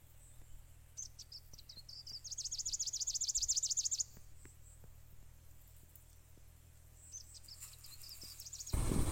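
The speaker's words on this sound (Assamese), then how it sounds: "এনেকুৱা সুন্দৰকৈ চৰাই মাত মাতি আছে" Bird chirps ring out in a dense, rapid trill for a couple of seconds, then scattered calls continue over a quiet outdoor background in Joyrampur, Dhemaji.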